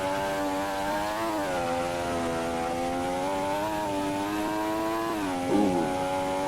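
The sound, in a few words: Formula 1 race car engine from a video game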